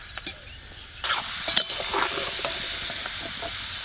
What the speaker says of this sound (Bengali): এঁচড়গুলো একটু ভাজবো এই আদা আর রসুন দিয়ে। রসুনটা একটু ঝলসানো হোক